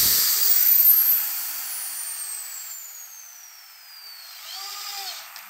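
A high-pitched power drill whines as it tightens a hinge screw, its pitch falling steadily as the screw seats, then a short squealing burst at the end.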